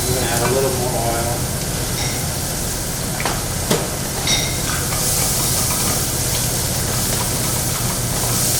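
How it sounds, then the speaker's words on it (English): Cabbage sizzling in oil as it is coated with spices in a pan, a loud continuous frying hiss with scraping stirs throughout. "So I'm just coating the cabbage with all the spices and that oil."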